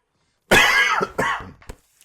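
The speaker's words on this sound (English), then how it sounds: "I don't know if you guys can hear me coughing or not." A couple of quick, harsh coughs up close, followed by a faint throat sound, with silence before and after.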